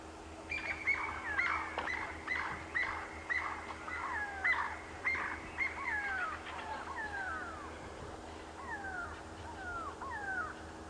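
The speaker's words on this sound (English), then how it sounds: "There was a bird of prey that was going after a francolin. That was what was screeching like that." Repeated sharp, descending calls of a bird of prey chasing a francolin ring out close by in a steady series, with other birds calling faintly in the background on an African safari.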